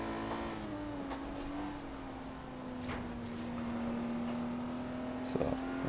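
A Renault car engine in Forza Horizon 3 holds a steady mid-pitched drone as the throttle stays open, rising slightly in loudness, with a brief knock or clunk near the end.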